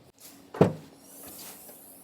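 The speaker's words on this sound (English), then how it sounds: "I'm going to kind of open up the hatch here" A single close thump and click as the rear hatch of a Toyota 4Runner releases, followed by a soft hiss of it swinging open.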